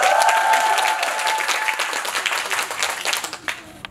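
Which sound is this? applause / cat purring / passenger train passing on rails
applause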